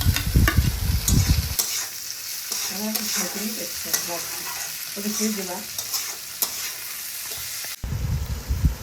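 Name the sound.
stirring chopped tomatoes into pasta in a frying pan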